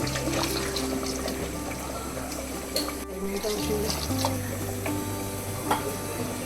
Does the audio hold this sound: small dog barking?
no